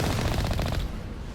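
A rapid burst of missile fire from a vehicle in Mass Effect, a loud, close, fast rattling volley of sharp reports lasting under a second before dropping into a dull rumbling tail.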